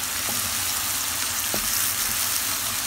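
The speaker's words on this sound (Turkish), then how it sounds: "Bunlar kavrulurken içine sarımsağı da rendeledim ve hepsini bir kavuruyorum." Onions and grated garlic sautéing in a pan for Bolognese sauce, a loud, steady, close hiss and crackle throughout, with a couple of faint utensil clicks and no voices.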